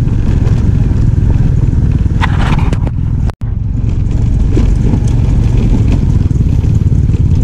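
A motorcycle rides slowly along a long, rough rural road near Masinloc, Zambales. A loud, steady engine rumble runs throughout with rattling jolts, broken by one brief dropout midway.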